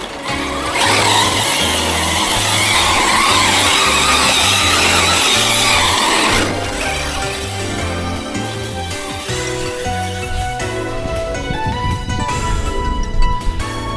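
A HoBao Hyper 10SC 2.0 RC car spinning dusty donuts on a dirt track, its motor whining loudly and continuously with a pulsing low rhythm, and gritty spray throughout that eases off partway.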